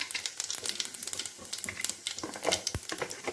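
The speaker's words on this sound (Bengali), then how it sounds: "কাঁকড়াটা রান্নার জন্য প্রথমে আমি কড়াইতে তেল দিয়ে দিয়েছি, তারপরে দিয়ে দিলাম দুটো শুকনো লঙ্কা" Dried red chillies with whole cumin, coriander seeds and black peppercorns frying in hot oil in a wok, giving a close, crackling sizzle with sharp pops throughout.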